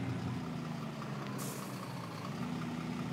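A Volvo FMX dump truck drives along a busy road, its engine a steady, loud low drone throughout, with a brief hiss of air partway through.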